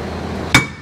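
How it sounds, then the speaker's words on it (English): A single sharp metallic hammer strike rings out on a rusted truck brake rotor, close and loud, after a quiet lead-in, with a brief fading ring. "we need to hit the rotor either here or here"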